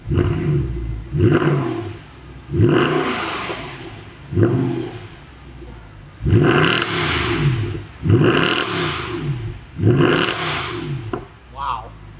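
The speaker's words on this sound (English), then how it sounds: "Here are some revs." A 2014 Mercedes C63 V8 with a Fi-Exhaust system is revved up repeatedly: about seven loud, close throttle blips with crackling falloffs between them. A voice briefly exclaims near the end.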